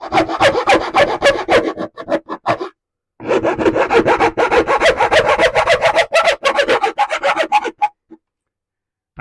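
Hand file rasping on a model railway part in quick, steady back-and-forth strokes, loud and close, with a brief pause partway before the strokes resume and then stop.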